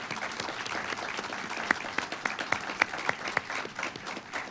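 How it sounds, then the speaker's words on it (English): Audience at a governing board candidate forum at Rio Salado applauding, a steady wash of clapping from a modest crowd with a few sharper individual claps standing out. "Let's give our candidates a round of applause."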